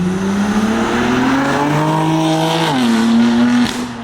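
A BMW F80 M3 fitted with catless downpipes revs its exhaust in a loud, rising drone that climbs steadily, drops sharply and then settles, with no talk.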